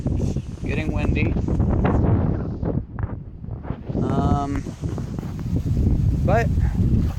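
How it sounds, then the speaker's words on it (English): Gusty wind roars and buffets outdoors beside a creek at a storm-damaged house after Hurricane Harvey, loud and continuous, with people talking over it. "it's getting windy."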